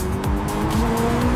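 A McLaren twin-turbo supercar on the road, its tires gripping with a loud, close, steady rush of tire and engine noise and a faint squeal-like tone running through.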